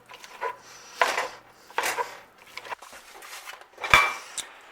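Ground meat being broken up and browned in a pot over medium to medium-low heat, with scattered scraping and clinking of a utensil against the pot in irregular bursts, close and fairly loud.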